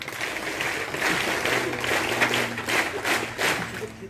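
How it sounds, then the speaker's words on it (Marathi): Hearty applause from the audience at a primary school's annual prize distribution ceremony, a dense, steady wash of many hands clapping close by for a few seconds, with faint background voices underneath. "आपल्या शाळेत टाळ्या वाजवायच्या जोरदार"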